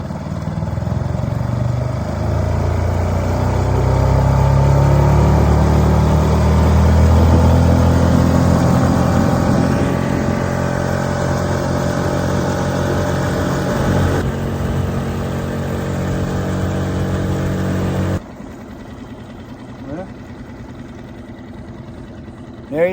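A boat engine, just repaired and put back in, runs steadily at a loud, even drone for about eighteen seconds before it drops to a quieter idle.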